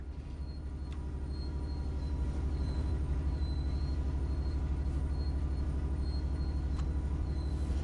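Steady low rumble of a train rolling along in Train Sim World 5, with rhythmic wheel clatter and faint high whines, continuous and fairly loud.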